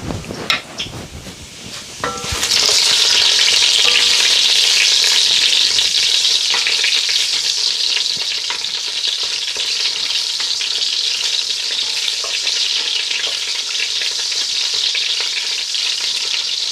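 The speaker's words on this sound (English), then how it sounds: "black peppercorns and the cloves as well, and also the cumin seeds. And I'm just going to fry these for a couple of seconds." Black peppercorns, cloves and cumin seeds hit hot oil in a pan for mutton pilau, a few clinks then a sudden loud, steady crackling sizzle that holds close and continuous, no talking.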